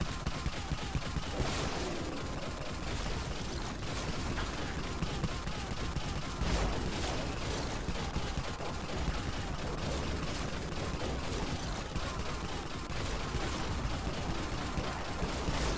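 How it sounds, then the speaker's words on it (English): A Cryostorm shotgun fires continuously in the zombie shooter Dead Frontier. The shots come in a dense, unbroken barrage mixed with other gunfire and game noise, loud and sustained throughout. "I will use the Cryostorm because that is my preferred shotgun anyway"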